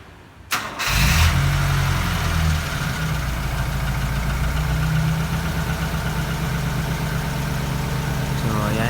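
A car engine cranks and catches after a jump start from a portable power-bank jump starter, firing up abruptly with a roar and then settling into a steady, close idle.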